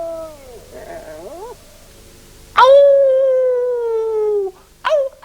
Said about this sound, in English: And wolves howl at night.